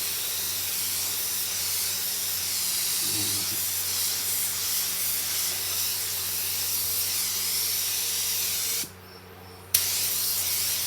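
A spray gun lays clear coat over a metalflake panel in a steady, loud hiss that runs nearly the whole time, cuts off briefly near the end, then resumes.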